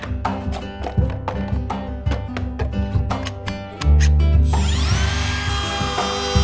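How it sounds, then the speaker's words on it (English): A handheld router powers up in a woodworking shop, preceded by rhythmic sharp knocks, then settling into a loud sustained motor whine that rises in pitch and holds steady. "I recently got a new handheld router."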